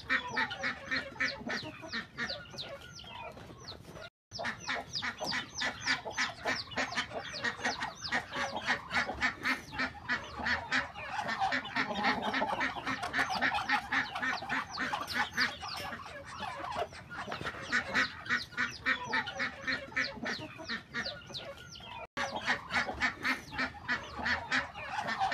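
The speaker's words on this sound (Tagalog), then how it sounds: "napakaingay ng pato" A dense flock of ducks and geese on a farm honk and quack nonstop in rapid, overlapping calls, loud and close, with a couple of abrupt brief cuts in the racket.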